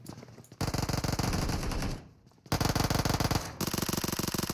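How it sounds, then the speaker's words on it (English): Automatic gunfire rings out in a PUBG Mobile esports league match: two long, rapid machine-gun bursts separated by a short lull, then a third burst starting, loud and close with no talk over it. "Here come the bullets flying through"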